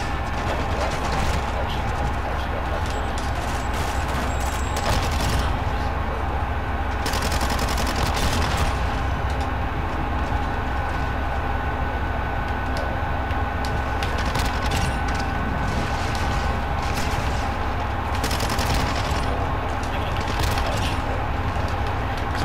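Bullfrog submachine gun in Call of Duty: Cold War firing in continuous rapid automatic bursts, loud and dense throughout with other game gunfire and effects mixed in.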